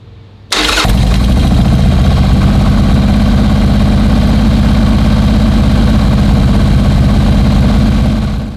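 A Harley-Davidson Sportster XL motorcycle, freshly fitted with an S&S Cycle 1200 conversion kit, fires up and settles into a loud, steady close-up idle for break-in, its throbbing exhaust running unbroken without talk.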